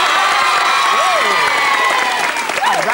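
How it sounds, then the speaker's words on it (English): Loud studio audience of a live 1988 Saturday-morning children's show claps and cheers, a dense roar with shouts and whoops rising over steady applause while voices carry through it. "rousing round of applause"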